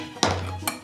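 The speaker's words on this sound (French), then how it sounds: "Je coupe mon citron en deux" A knife slicing a lime in half on a board, a sharp cutting crunch followed by a second brief knock as the blade meets the surface, close and quick.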